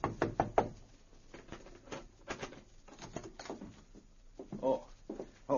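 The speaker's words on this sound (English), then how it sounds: "He knocked on the door of their room." Knocks on a hotel room door in a radio drama, a quick cluster of close raps followed by scattered further knocks and light thuds, no talking.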